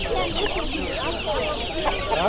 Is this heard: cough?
no